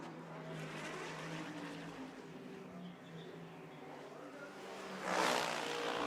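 A GT race car in qualifying at Monza drones past at a distance, its engine tone shifting as it nears the chicane, with a louder rising surge near the end under faint commentary.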